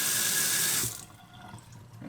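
Water runs steadily from a Delta faucet into a sink, a loud even rush that cuts off abruptly after about a second and leaves faint drips and room tone.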